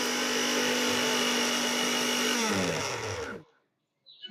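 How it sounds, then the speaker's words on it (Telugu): A mixer grinder grinds ginger and garlic with a loud, steady motor whine, then winds down in pitch and cuts out, leaving a brief silence before a faint rattle. "అల్లం వెల్లుల్లి మిక్సీ పట్టుకోండి"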